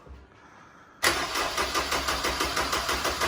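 Honda S2000 F22C1 engine cranking over on the starter with no injectors or fuel, a steady rhythmic churning pulse that starts abruptly and repeats evenly, loud and close in a garage.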